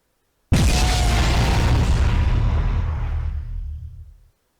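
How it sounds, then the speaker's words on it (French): A nuclear bomb goes off in Garry's Mod with one sudden, loud, deep boom that rumbles on and fades away over about four seconds. "Ok, il y a 2 explosions"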